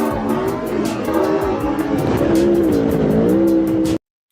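A car in a played video clip drives with a loud engine roar and tire squeal, the engine tone rising and wavering before cutting off abruptly near the end.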